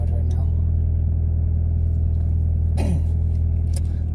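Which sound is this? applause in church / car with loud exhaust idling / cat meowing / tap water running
car with loud exhaust idling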